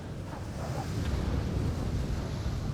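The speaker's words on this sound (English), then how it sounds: "Damn, y'all hear that wind?" Steady, loud wind roaring and buffeting a microphone outdoors, a continuous low rumble with no pauses and no voices.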